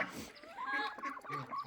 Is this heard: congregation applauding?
no